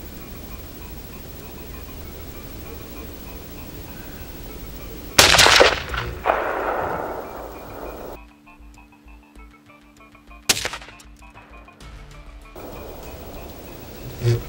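Two rifle shots fired over iron sights at a 100-yard range, each a sharp loud crack with a brief tail, spaced about five seconds apart outdoors amid steady wind-like background noise.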